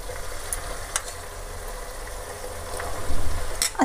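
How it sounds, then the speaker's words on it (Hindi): Spice masala fries in oil for a mushroom and green pea sabzi with a low, steady sizzle, light clinks and stirring scrapes, the sound growing busier near the end. "अब मसाले को तब तक पकाएंगे जब तक कि मसालों से ऑयल अलग नहीं हो जाता।"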